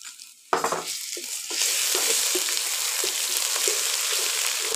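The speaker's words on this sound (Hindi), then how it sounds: "टाइम पे डालते हैं लहसुन अदरक" Garlic and ginger hit hot oil in a pot while cooking chicken yakhni pulao, bursting into a loud, steady sizzle after a sharp start, with stirring scrapes throughout and no talking.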